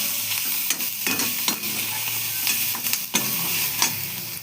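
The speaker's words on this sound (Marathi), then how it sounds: "इलायची दालचिनी, आणि टमाटर, दालचिनीचा तुकडा, हे लसूण सर्व भाजून घ्यायचं." Cardamom, cinnamon, cloves, tomato and garlic dry-roasting in a pan, a steady close sizzle broken by sharp scrapes and clinks of stirring, with no voices.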